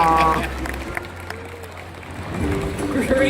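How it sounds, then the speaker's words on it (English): An audience claps for a sea lion at an outdoor animal show, a broad, diffuse wash of applause and crowd noise that swells again near the end, with a voice speaking over the start. "let's get one more big round of applause for my little friend Saki"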